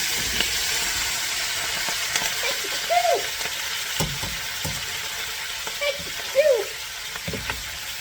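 Rinsed cabbage frying in bacon fat in a pan: a steady bright sizzle with faint stirring scrapes and a few small pops, close by. A voice is heard briefly.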